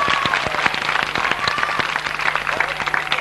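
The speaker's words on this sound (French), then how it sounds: "Voilà, on applaudit, il est là-bas." An audience at a French stage performance of Les Misérables applauds, with distinct individual claps over a broader wash of clapping, steady and fairly close.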